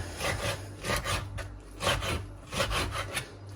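A knife cuts young spinach for chicken and spinach breakfast muffins, giving about six rhythmic scraping strokes against a board, close and fairly loud, with no talking.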